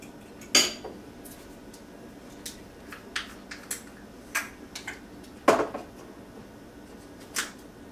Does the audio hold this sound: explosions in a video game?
no